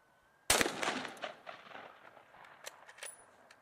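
A single loud, sharp gunshot from a high-powered military rifle with full metal jacket rounds, fired at a bullet-proof panel outdoors, followed by a decaying echo and a few fainter later cracks.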